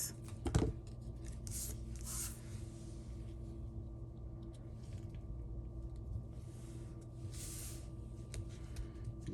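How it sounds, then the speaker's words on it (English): Scissors cut cardstock for a handmade paper pumpkin card: a few short, crisp snips and rasps that stand out only a little from a steady low room hum, with long quiet gaps between them. "Let's cut this off."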